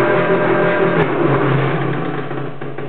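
4-axis CNC hot wire foam cutter travelling back to its start position, a steady close mechanical motor hum with faint ticks, holding level then easing slightly toward the end.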